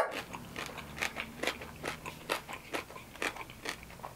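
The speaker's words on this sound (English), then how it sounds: "Can y'all hear that crunch?" Loud, close crunching from chewing crispy Filipino pork, a steady run of sharp bites and crackles repeating roughly every half second, with no talking.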